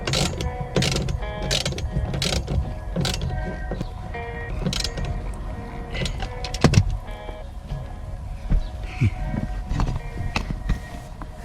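Repeated clicking and ratcheting of a socket wrench tightening the harness bar bolts in a Mitsubishi Lancer Evo 9, loud and close, with rhythmic ratchet strokes and metallic knocks and no talking.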